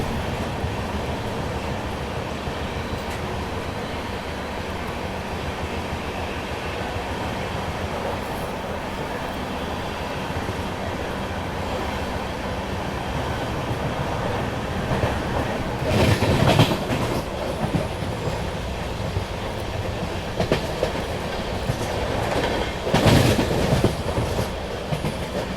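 The Duronto Express from Bangalore to Kolkata rumbles along the rails at moderate speed, a steady heavy roar with rhythmic clacking, briefly swelling louder near the middle and again near the end.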